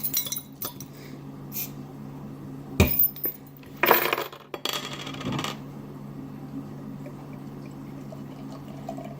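Beer container cracked open, a couple of sharp clinks and a short pop-hiss followed by brief pouring sounds, close and fairly quiet against a low background hum.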